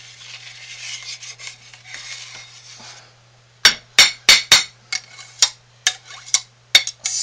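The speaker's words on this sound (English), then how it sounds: "Scrape down the sides." A scraper works around the sides of a pot of cooking homemade lye soap, first a soft rasping rub, then a rapid series of sharp close metallic scrapes and knocks against the pot wall, with no talking.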